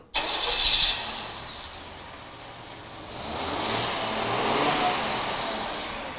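Carbureted car engine cranking and catching within a second, then settling into a loud steady idle that swells slightly as it revs a little, close by.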